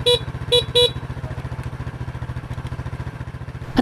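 Motorcycle horn powered by a battery booster on a bike with a weak battery, three short beeps at the start over a steady, rhythmic idling engine, close and loud.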